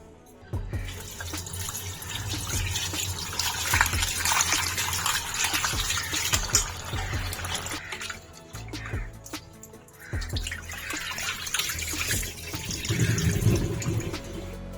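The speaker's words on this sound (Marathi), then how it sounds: "आता त्याला 4 वेळा पाण्यात धुवून घ्यायचा।" Floured dried fish for a Malvani dry fish curry is rinsed under running water: a loud, steady gush of tap water splashes and churns in a sink throughout, with irregular sloshes and no speech.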